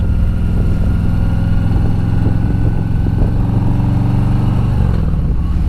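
Harley-Davidson 2020 touring motorcycle engine, likely fitted with aftermarket baffles, rumbling steadily and loudly close by with a deep throaty idle-like drone as the throttle is let off, no talk over it.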